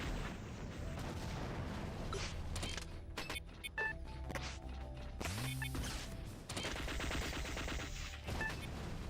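Double turret gunfire in a video game, rapid mechanical bursts layered with whirring and clanking effects, steady and dense across the whole stretch with brief breaks.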